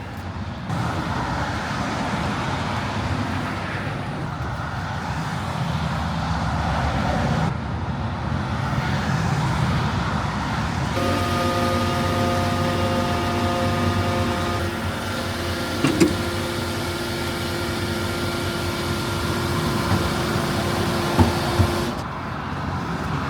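A diesel touring coach drives along with a steady, droning engine and road rumble, heard from inside the bus; the tone shifts partway through as the engine note changes, with a few faint clicks and no talk.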